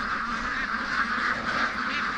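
Free-range ducks in a pen beside a lake and swamp, a dense chorus of overlapping quacks and honks forming a steady, fairly close din, with no talk.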